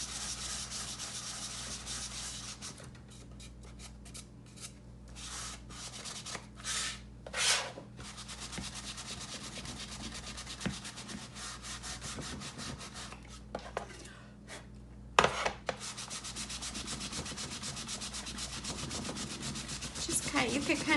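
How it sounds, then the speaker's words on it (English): A buffing pad works over a painted finish in a bathroom, making a continuous close scratchy rubbing broken by a few short pauses and knocks. "So let's take a buffing pad and buff this out."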